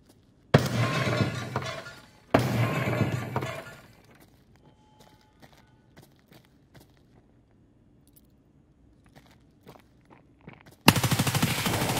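Gunfire in the video game Escape From Tarkov: two loud bursts of automatic fire at close range, followed by scattered faint distant shots and clicks, then another loud burst at the end.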